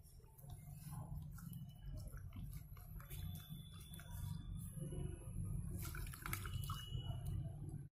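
Oil-stained cloth being rinsed in water by hand, with steady dripping, splashing and faint squishing throughout, close and moderately quiet, no talk.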